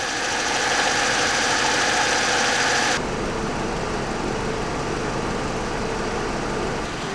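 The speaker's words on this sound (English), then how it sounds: "How awesome is that this engine works, and listen how good it runs." A BMW N42B20 four-cylinder engine swapped into an E46 318ti Compact idles steadily and evenly at close range, a continuous mechanical hum with a sharp change in tone about three seconds in and no talking.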